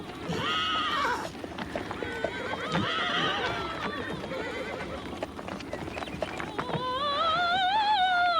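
A horse being saddled and cinched in a frontier camp whinnies loudly at the start and again near the end, with hooves clopping and shuffling in between, under a busy outdoor backdrop.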